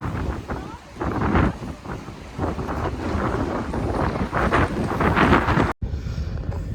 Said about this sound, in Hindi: बहुत तेज़ हवा है